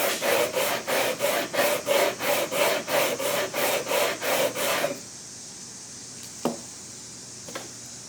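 Wood being sanded by hand in brisk, even back-and-forth strokes, about a dozen rhythmic rasps in five seconds. The strokes stop, leaving near silence broken by a couple of faint knocks.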